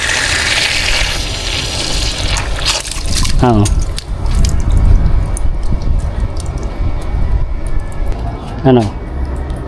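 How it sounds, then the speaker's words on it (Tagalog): Water splashes and gushes steadily in a school vegetable garden plot, loud and close, with speech over it at moments. "Tulo na siya"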